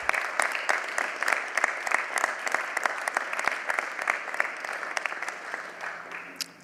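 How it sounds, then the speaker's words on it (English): Audience applause at a Veterans Day event, a steady wash of many hands clapping for several seconds that gradually thins toward the end. "Let's give this group a round of applause"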